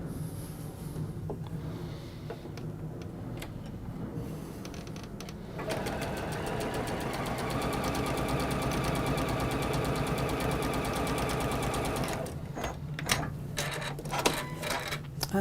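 Sewing machine stitching a fabric seam, starting with scattered clicks and then settling into a steady rapid rattling run for several seconds before stopping, fairly quiet and close.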